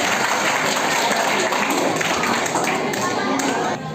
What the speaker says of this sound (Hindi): एक बार तालियां अगले प्रयोग के लिए तैयार है।